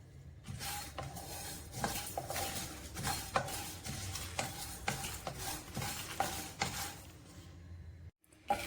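Coriander, mustard seeds, rice, urad dal and dried chillies dry-roast in a pan, with repeated rhythmic scraping and stirring strokes and a light rustle of seeds, fairly quiet throughout, ending with a brief pause and clatter.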